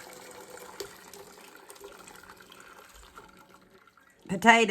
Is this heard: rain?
no